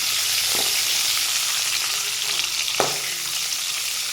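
Eggs frying in oil with turmeric, a continuous bright sizzle close up, with a couple of brief knocks from the utensil.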